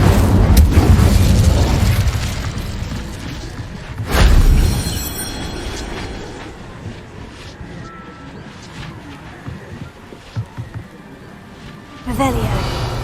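Incendio fire spell cast in Hogwarts Legacy, a deep booming whoosh that blooms at the start and returns a few seconds later amid muffled rumbles, with a spoken incantation over it.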